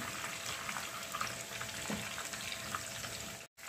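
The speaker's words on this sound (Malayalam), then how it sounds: "അപ്പോൾ ചിക്കൻ ഫ്രൈ ആയിട്ടുണ്ട്" Fresh boneless chicken pieces frying in oil for chilli chicken, a dense continuous sizzle and crackle held steady and fairly faint, with a brief dropout near the end and no voices.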